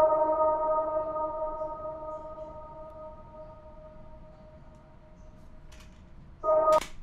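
Reverse reverb effect made in Presonus Studio One 3.5: a sustained tonal note with a long fading tail hanging for several seconds, then a brief swelling burst near the end, fairly quiet and alone.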